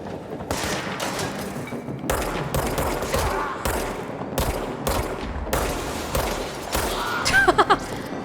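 Rapid bursts of gunfire in the video game Control, repeated automatic volleys separated by brief gaps, loud and close, ending with a few sharper single shots.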